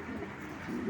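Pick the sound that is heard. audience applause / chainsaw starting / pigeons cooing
pigeons cooing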